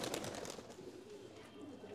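Golden pigeons in a home pigeon collection coo softly in low, rolling murmurs that continue through the whole stretch, heard at close range against a busy background.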